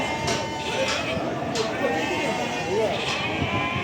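Young lambs bleat at a sheep market in Barda, their calls rising over a dense crowd of voices and general market noise.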